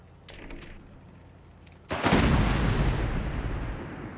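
Company of Heroes 3 battle gunfire: a few faint distant shots, then a loud heavy volley erupts and rolls on as sustained rumbling fire with no voices over it.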